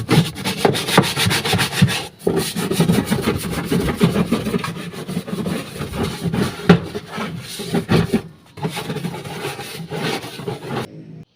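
A twin-tub washing machine's spin-dryer motor is scrubbed clean with a descaler or toilet cleaner, giving rough, repeated rubbing strokes in uneven bursts, with a few brief pauses.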